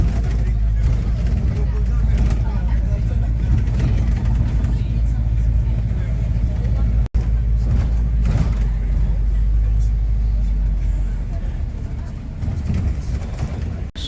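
A London double-decker bus heard from its upper deck on a windy day, with a steady loud engine rumble and road noise throughout, and faint voices in the background.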